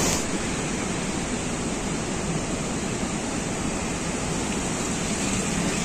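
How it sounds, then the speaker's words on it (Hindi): A waterfall on a rainy mountain road toward Badrinath in Uttarakhand, with light drizzle still falling: a steady, loud, dense roar of rushing water that continues unchanged the whole time with no voices. "रास्ते में ये देखो क्या झरना देखने को मिला है भाई, मस्त वाला झरना"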